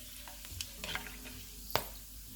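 Whole spices (green cardamom, black peppercorns, a cinnamon piece, cloves and cumin seeds) fry quietly in oil with a faint, steady sizzle, broken by a few light stirring taps and one sharper clink.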